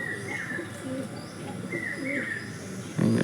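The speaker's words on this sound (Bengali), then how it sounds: "দেখো এগুলো সব জোরধারী পায়রা, বড় পায়রা" Large pigeons kept in a small home flock coo repeatedly at close range while hopping about for water, with a few chirps and a brief rustle of movement near the end.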